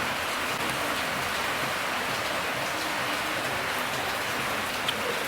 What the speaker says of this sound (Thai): ออกไปซื้อกับบ่ได้ฝนตกริมเลยเนาะ